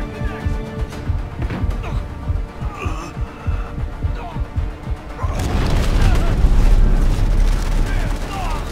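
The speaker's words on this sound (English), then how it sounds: "Artillery cover coming." Artillery explosions in the military shooter game Delta Force: Hawk Ops: rumbling booms and throbbing impacts, with a dense, loud barrage of blasts swelling heavier after a few seconds, under a mix of game chatter.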